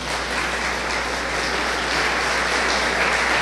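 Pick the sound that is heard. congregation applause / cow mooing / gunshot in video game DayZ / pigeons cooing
congregation applause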